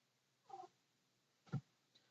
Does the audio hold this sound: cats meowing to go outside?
yes